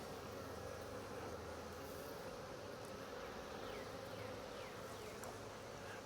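A dense, steady buzz of many bees fills the air up close, continuous and unbroken throughout.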